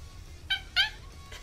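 A house cat makes odd chirping, trilling calls, two short bright chirps close together followed by a fainter one, near and clear with no talk.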